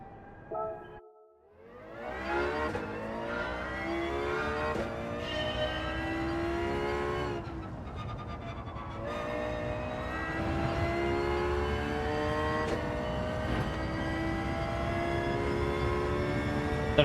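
Lexus LFA racing in Gran Turismo 7, its engine note climbing through rapid upshifts with a brief cut early on, then a sustained high, loud wail holding steady to the end.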